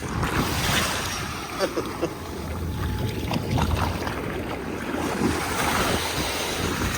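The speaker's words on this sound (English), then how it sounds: "Watch some waves." Ocean surf breaking and washing up on a shore, with steady wind buffeting the microphone throughout; the waves roll in as a continuous close wash rather than distinct separate crashes.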